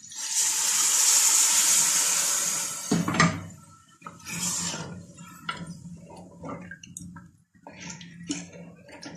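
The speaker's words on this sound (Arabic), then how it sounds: "ندير شوية ماء سخون" Hot water is poured into a tajine of vegetables and tomatoes, giving a steady rushing splash for a few seconds, followed by softer sizzling, bubbling and scattered clinks as it settles.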